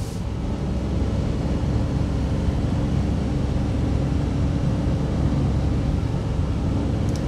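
2022 Daihatsu Hijet Hard Cargo mini utility truck, a speed-limited off-road vehicle, driving in third gear, a loud steady engine drone and road rumble heard from inside the cab, with no pauses or voices.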